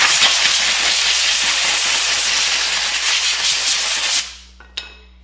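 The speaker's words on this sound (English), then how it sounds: "one last cleaning with air" Compressed air blasting loudly and steadily onto a Ford disc brake for about four seconds, then cutting off to near silence with a faint clink afterward.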